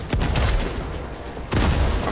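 Two loud bursts of gunfire in the Helldivers video game, one early and one after a short pause, stand out over a constant rumbling background din of battle.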